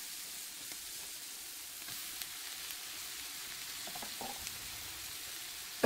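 Oryx meat sizzling in a number six cast-iron potjie pot: a steady, quiet hiss of frying with occasional soft pops and stirring clicks, no talk.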